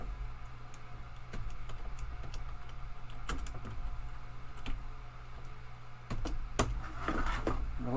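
Steady typing on a computer keyboard, with quick irregular key clicks running continuously over a low background hum, no voices.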